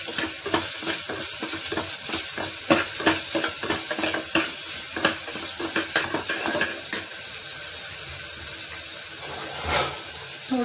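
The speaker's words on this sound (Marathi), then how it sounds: "आणि कांदा जो आहे तो आपण चांगला परतून घेऊया थोडासा शिजेपर्यंत।" Onion fries in a tempering of oil with a pinch of asafoetida for khichdi, a bright sizzle broken by repeated scraping stirs of a spoon in the pan, which then settle into a steadier hiss.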